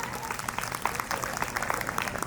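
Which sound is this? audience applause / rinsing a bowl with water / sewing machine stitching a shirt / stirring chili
audience applause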